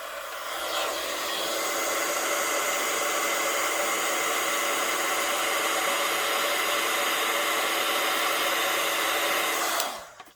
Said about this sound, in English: And again, I'll do the heat embossing.